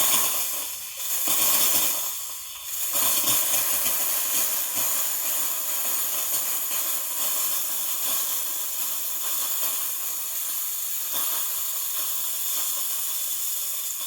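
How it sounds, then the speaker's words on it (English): Gaggia Classic Pro espresso machine's steam wand hissing steadily while steaming milk, a continuous broad airy hiss with a couple of brief dips near the start, close and fairly loud with no talk. "you steam close to the surface, the more air you'll get in the milk, essentially"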